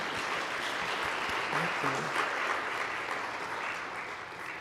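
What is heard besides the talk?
congregation applause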